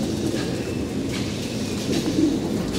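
Pet pigeons coo repeatedly and steadily at close range while being fed, their soft throaty calls layered over a low background rumble.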